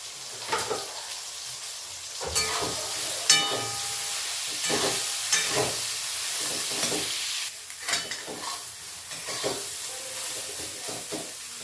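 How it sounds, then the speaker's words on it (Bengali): Soya chunks frying in a pan with salt and turmeric, a steady close sizzle broken by repeated scraping strokes of stirring, with no voices. "এক চামচ নুন দিয়ে আর হলুদ দিয়ে সয়াবিনটা ভালো করে ভেজে নেব।"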